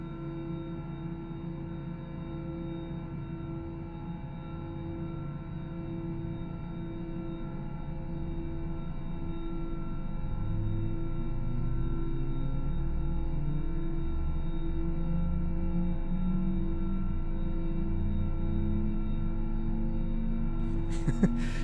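A steady low mechanical hum with rising tonal whines as Airbus A320 jet engines spool up in a flight simulator, gradually growing louder over about twenty seconds with no talking.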